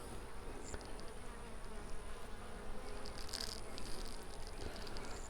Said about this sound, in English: You can see on the bottom side of the lid, there's some bees in here